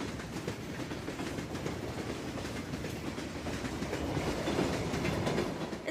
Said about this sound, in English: Doors open. Train going. Silence. Train coming. Train stop.